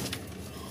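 Soft, low cooing from a paired green-hen pigeon and her mate, a short murmured call close by with a faint flutter early on and no talk.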